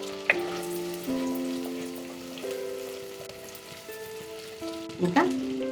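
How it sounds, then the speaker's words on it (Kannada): Garlic and chopped ginger sizzle in a pan for a spicy vegetable soup, a steady close frying hiss with sharp pops and clinks of a utensil near the start and end, no talking. "ಸ್ವಲ್ಪ ಬೆಳ್ಳುಳ್ಳಿ ಫ್ರೈ ಆಗಲಿ."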